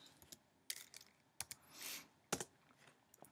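Keys pressed on a computer keyboard during text animation work in Adobe Animate: a few sharp, close clicks and taps spaced irregularly, with a softer clattering burst in the middle and quiet between strokes.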